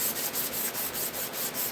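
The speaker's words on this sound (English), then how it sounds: "Hit it with some hand sander." A hand sander is rubbed back and forth along the edge of a workpiece to remove burrs, giving a steady series of rough, rasping strokes, close and alone, about nine passes in under two seconds.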